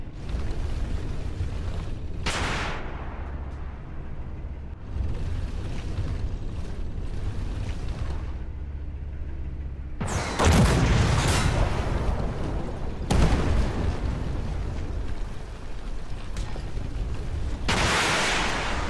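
Heavy booming blasts from tank cannons in a tank combat video game, several loud deep reports spread across the stretch over constant rumbling engine and battlefield noise.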